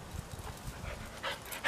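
A dog that has been out eating grass pants in short, soft breathy bursts, fairly faint against low background rumble, with a louder huff at the very end.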